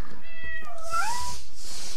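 A cat meows in the Minecraft video game, a couple of clear, close, rising and falling game meows with no talk over them.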